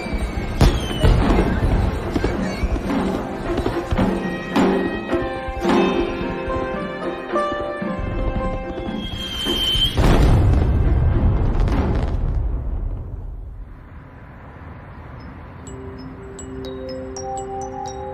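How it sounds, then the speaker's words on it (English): Diwali fireworks over New Delhi: loud booms and bursts crackle and thud over a steady roar, then fade into quieter distant rumbling with a faint tonal hum. "watch the skies of New Delhi light up in a dazzling display of"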